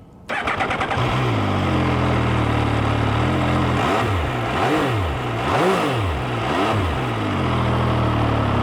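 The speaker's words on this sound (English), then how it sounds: "It's all engine noise, and it's quite loud." A 2017 MV Agusta Brutale 800 motorcycle engine cranks and fires up, settles into a loud, close idle, then is blipped through several rising and falling revs before dropping back to idle.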